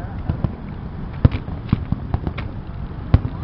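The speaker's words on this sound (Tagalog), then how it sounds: "Ganda ng fireworks o." Distant fireworks at a food festival in Al Bidda Park, Doha, Qatar, pop and crackle in an irregular series of sharp bursts over a steady noisy background.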